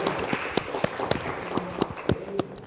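An audience applauds at a talk event, with scattered individual claps sounding in an uneven rhythm over low room noise.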